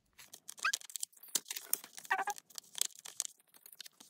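Paper card stock for a handmade March 8 greeting card is folded and creased, giving close, crinkly rustles and scrapes in quick, uneven bursts.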